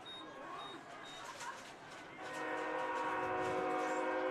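An Amtrak train passes near a high school football field at night, its rumble and rail noise building and growing steadily louder past midway, with a horn note and faint crowd and announcer murmur beneath.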